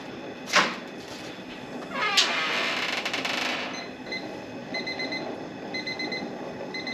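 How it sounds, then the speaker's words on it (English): A kitchen timer alarm goes off during a stovetop shrimp boil for Beaufort stew: after a couple of brief squeaky noises, short high electronic beeps repeat in quick clusters, moderately loud over faint room noise. "the alarm's going off"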